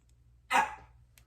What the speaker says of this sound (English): my dog needs to go out